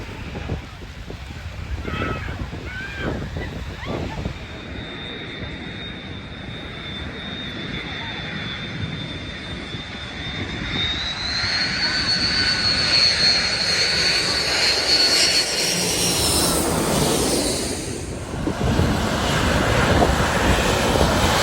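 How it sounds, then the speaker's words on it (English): A jumbo jet takes off at Maho Beach on St. Maarten, its engines rising from a steady whine to a loud, swelling roar that fills the beach, with a high whistling tone over the rumble. "There's a jumbo jet on the runway, and here we go."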